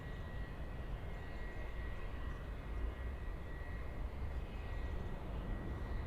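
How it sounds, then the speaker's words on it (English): A steady, broadband roar of an Airbus A350 airliner flying near Munich airport, constant and moderately distant with no distinct peaks, holding at even loudness throughout. "that A350 flying to Mumbai"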